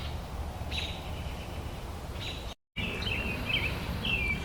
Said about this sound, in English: just listening to the birds and hearing the breeze through the trees